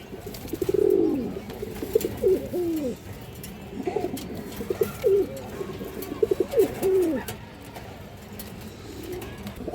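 Large China khaki pigeons coo repeatedly in low, rolling phrases at close range, with a steady background hum and no clear talk.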